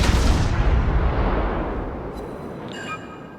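Cleveland cruiser in World of Warships firing high-explosive shells, a heavy booming salvo that rolls and fades over a few seconds, with a faint metallic ring near the end.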